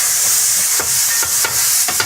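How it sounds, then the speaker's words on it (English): Thin chicken flash frying over high heat in a honey, lemon and soy marinade, a loud, close, continuous sizzle with a few sharp crackles and spatters. "We're basically going to flash fry it"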